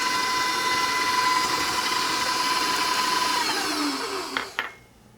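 An electric mixer whirring at low speed through blueberry buckle batter, a steady motor hum with a whine that shifts, then two knocks as it switches off and falls silent, with no talk.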